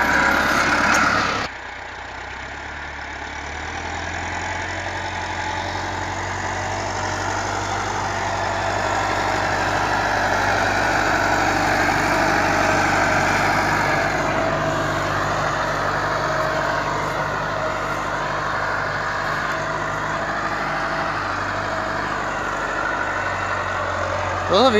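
Massey Ferguson 385 tractor pulling a 16-disk harrow in a field, a steady loud diesel drone with a deep low rumble that holds throughout, briefly dropping at the start before settling.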